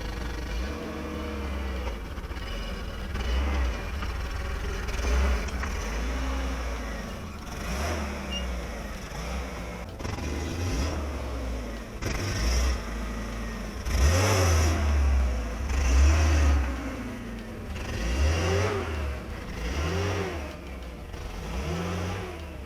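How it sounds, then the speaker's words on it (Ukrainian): A ZAZ Slavuta car and a truck idle and rev at close range, rising in bursts as they maneuver, with a steady low rumble throughout. "Приберемо славуту, розвернемо вантажівку, заїдемо вантажівкою аж туди і будемо вантажитись."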